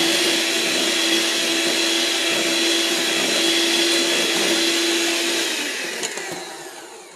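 An electric hand beater runs through apple cake batter with sugar mixed in, a loud, continuous whirring drone with a steady hum that eases off slightly near the end.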